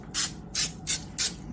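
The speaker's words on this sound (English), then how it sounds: "I'm gonna spray my glass pan here" Cooking spray sprayed onto a glass baking pan in four short, close hissing bursts at a quick, even rhythm.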